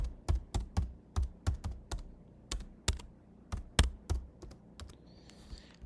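Keys clack on a computer keyboard as a short title is typed, a burst of sharp, irregular taps with brief pauses between groups, close and fairly quiet with no voices.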